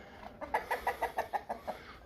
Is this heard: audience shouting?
no